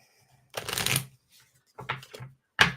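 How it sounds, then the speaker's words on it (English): Several short riffling bursts of a deck of cards being shuffled, crisp and close, separated by quiet pauses, with no speech. "One more shuffle."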